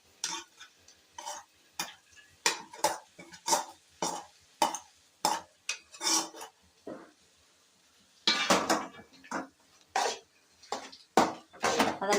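A spoon stirring carrot halwa with fried cashews and raisins in a pan, rhythmic scraping strokes against the metal with soft thick squelches, close and distinct, repeating in uneven bursts with a short pause midway.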